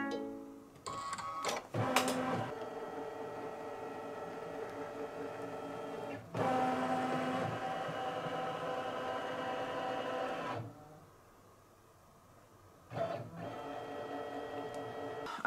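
A Brother Luminaire sewing and embroidery machine scans an image in its design center, giving a steady mechanical whir with beeps, a pause near eleven seconds, then a resumed hum close by.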